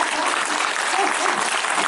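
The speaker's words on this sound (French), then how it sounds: "est-ce que vous pourriez applaudir l'animatrice" A festival concert audience claps in a dense, steady burst of applause that fills the whole short moment, loud and continuous, with a few voices buried in the noise.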